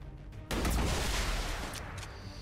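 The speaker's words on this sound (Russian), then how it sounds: "Выстрел снайперки" A sniper rifle shot in the strategy video game XCOM 2: one sharp, loud blast that hits suddenly and then decays in a long rumbling tail lasting about two seconds.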